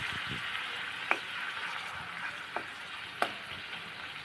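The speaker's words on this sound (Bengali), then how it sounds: "তো আমি এখানে এটাকে তেলে দিয়ে দিলাম।" Dried chapa shutki fish frying in oil with onions in an old well-oiled wok, a soft continuous sizzle with a few sharp clicks of stirring, quiet and without speech.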